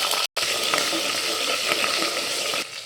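Mustard seeds, cumin and dried red chillies frying in hot oil for a yam curry, giving a steady close sizzle and crackle with small pops, briefly cut out near the start and then easing toward the end.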